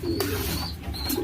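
Caged pigeons, carried while being moved to a new cabin, give short soft coos and calls close by, with handling rustle and low background noise.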